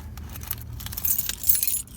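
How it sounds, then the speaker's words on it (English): Keys jangle near at hand as the ignition of a 1994 Ford Taurus is worked, a light metallic rattle over a low rumble, with no clear engine catch in the short stretch. "I'm gonna go ahead and start the car."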